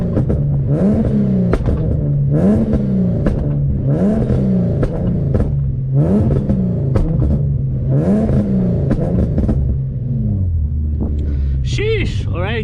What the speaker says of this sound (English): So let's do a couple revs here and see if we can hear it.